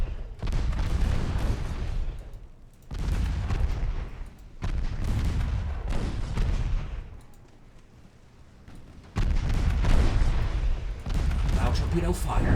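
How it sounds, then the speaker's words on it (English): Torpedoes fire in a naval battle in Ultimate Admiral Dreadnoughts, with several heavy booming bursts separated by short lulls, played under an intermittent speaking voice. "Now torpedo fires."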